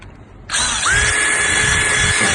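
A drill boring a 5mm hole through an aluminium commercial door, starting abruptly after a quiet moment and then running as a loud, steady whine close by with no talk.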